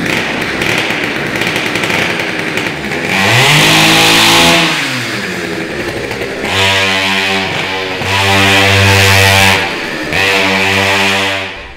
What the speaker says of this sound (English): This is the little Mario Kart go-kart. It's like a crazy loud modified chainsaw engine.